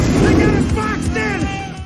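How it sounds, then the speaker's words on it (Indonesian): Loud, booming gunfire from Minecraft piglins bursts in quick succession, layered over dramatic music and voice-like tones, with heavy low rumble throughout. "Steve dan Garrett ditembaki oleh piglin terus-terusan"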